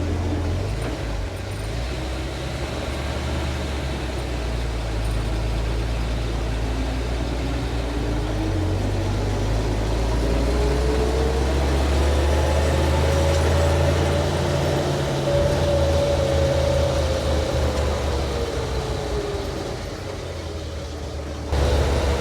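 Dodge Power Wagon truck driving on a test drive: a steady, close engine drone with low rumble that rises and falls as it accelerates and shifts, alone and continuous throughout.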